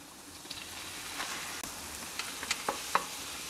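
Ground beef and chicken mixed together fry in a pan with a steady, close sizzle. A few sharper pops and crackles stand out over the continuous hiss.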